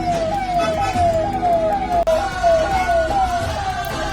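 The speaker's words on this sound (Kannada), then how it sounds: "ಈ ಮಲ್ಲಿಕಾರ್ಜುನ್ ಮುತ್ಯ ಅನ್ನೋ ವ್ಯಕ್ತಿ ತನ್ನ ಪ್ರೈವೇಟ್ ಕಾರಿಗೆ ಸೈರನ್ ಹಾಗೂ ಎಮರ್ಜೆನ್ಸಿ ಲೈಟ್ಸ್ ಹಾಕಿಸ್ಕೊಂಡು" A wailing siren fitted to a private car sweeps up and down repeatedly in a fast, steady cycle, loud and close, with traffic noise underneath.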